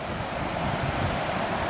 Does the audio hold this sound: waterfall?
yes